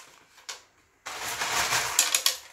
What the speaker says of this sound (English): You just put some leca bits on the bottom.